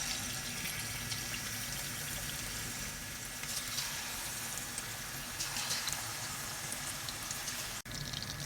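Raw chicken fries in hot oil for a homemade chicken patakha, a steady close sizzle and crackle that holds evenly throughout with no talking.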